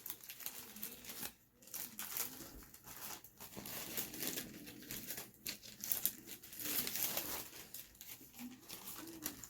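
A plastic bag crinkles and rustles while being handled to hold lemon seeds wrapped in a damp paper towel, with soft pigeon-like cooing in the background.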